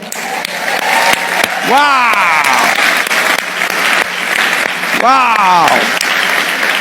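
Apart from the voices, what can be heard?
audience applause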